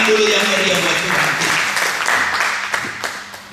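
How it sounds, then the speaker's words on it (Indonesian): Lively applause from a church congregation during a sermon, a full wash of clapping over a few seconds with voices and cheering mixed in, slowly thinning toward the end. "Beri tepuk tangan dulu yang meriah buat Tuhan."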